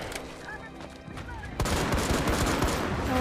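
Rapid bursts of video game gunfire ring out, first lighter scattered shots and then a dense, loud barrage of automatic fire filling the second half, with no speech over it.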